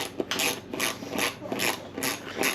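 A ratchet wrench tightens a 10mm bolt on an e-bike seat, its pawl clicking in five or six quick bursts, close and crisp, with no talking.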